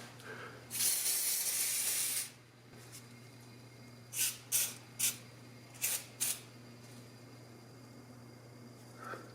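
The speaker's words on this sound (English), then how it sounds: "I want the electronic contact cleaner on here, so we'll give it a quick shot" Electronic contact cleaner sprayed onto the screws of a Singer 221-1 sewing machine: one long hissing blast, then a string of five or six short bursts, close and alone.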